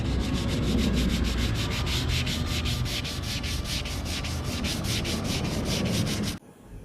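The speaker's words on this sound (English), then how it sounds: "then I'll go over it with 320 to remove those scratches" Close, steady back-and-forth rasping of 320 grit sandpaper on a block over a scratched plastic bumper cover, quick even strokes repeating for about six seconds before cutting off.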